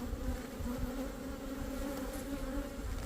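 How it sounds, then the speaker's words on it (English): Bees buzz in a dense, constant hum throughout a beehive inspection, a few flying close around the keeper as frames are handled. "So the bees are not that bad. There is a few flying around me."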